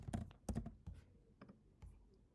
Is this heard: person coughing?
no